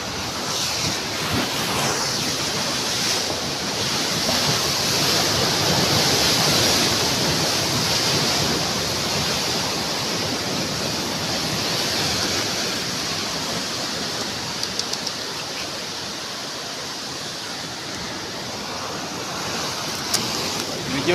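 Surf rolls onto Bitoon Beach in a continuous loud wash, with wind buffeting the microphone throughout and no talking over it.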